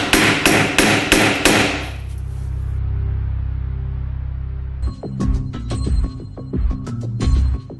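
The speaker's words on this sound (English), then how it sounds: "you can just tap it in with a hammer" Hammer tapping an underdriven nail into HardiePlank fibre cement cladding, a quick run of sharp, loud metallic strikes, a low droning pause, then more clustered taps, close up.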